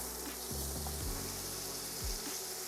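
Onions hitting a hot pan of butter and olive oil over medium heat give off a steady, broad sizzle throughout, with a few low thumps and scrapes as they settle.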